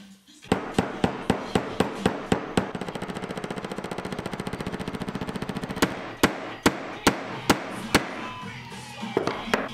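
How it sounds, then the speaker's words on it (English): A mallet taps a brass dowel flush into a wooden necklace stand: a run of sharp, evenly spaced knocks, then a quick rapid rattle of lighter taps, followed by more single firm strikes, close and loud. "I could carefully hit it in with my mallet until it was flush with the top"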